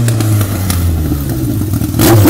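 A toy super motorbike revs with a loud, steady buzzing engine drone and some clatter, close and continuous throughout, swelling slightly at the end.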